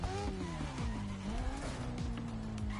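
A motorbike engine in The Crew Motorfest game revs hard and high, with rising and falling pitch sweeps through quick gear changes and a shrill whine layered over the steady drone, loud and continuous throughout.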